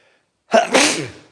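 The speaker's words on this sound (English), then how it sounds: "Hold on, I got to sneeze." A single loud, close sneeze: a quick sharp intake followed by an explosive burst that trails off, with silence before it.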